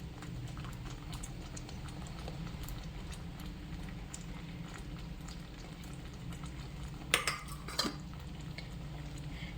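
A spoon scrapes and stirs in a pan as 100 g of paneer goes into a simmering butter masala gravy, a soft continuous bubbling texture with a couple of brief clinks.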